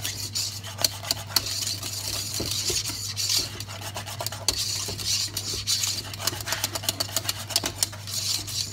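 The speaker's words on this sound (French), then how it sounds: "On mélange, on mélange. Moi, je donne des mouvements comme ceci pour être sûr que ça passe partout." Pastry cream for cream-filled Berlin doughnuts is stirred in a pan, a close, continuous scraping and rubbing with rhythmic clicks of the utensil against the pan and no talking.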